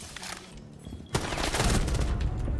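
A pistol shot in a tactical shooter video game, one sharp crack followed by a sustained dense rumble of gunfire and explosions.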